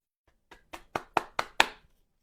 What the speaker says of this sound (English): And cut it in until you have like little pea-sized pieces of flour.